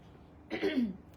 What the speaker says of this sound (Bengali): গলাটা একটু কেশে টেশে নিই